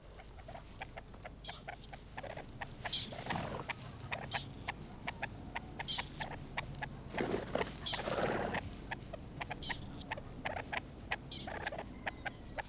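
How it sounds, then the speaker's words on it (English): Partridges calling during courtship in English countryside: a run of rapid, repeated clucking and chattering calls, fairly close and steady, with a few louder harsher bursts among them. "And when the snow goes, partridge courtship starts in earnest."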